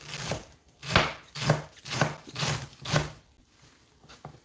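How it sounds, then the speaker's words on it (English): Vegetables sliced by hand with a knife, producing a steady run of about six close, rhythmic chopping strokes on a board roughly every half second, then a couple of softer cuts, with no talking. "That's how you slice vegetable manually, not with a machine. You just grab it, put the edges together, and you go."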